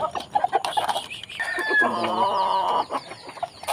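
Pet chickens clucking nearby in a flock bred from a single hen, short clucks first and then a longer drawn-out call, with other birds chirping faintly in the background.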